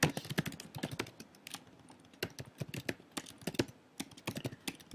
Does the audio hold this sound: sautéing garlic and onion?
no